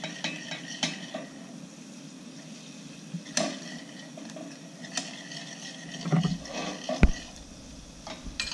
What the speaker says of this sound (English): add in some beef jus, and then stir and mix